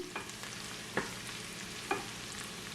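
Small onions fry in hot oil with a continuous quiet sizzle, broken by three or four brief scraping knocks spaced about a second apart.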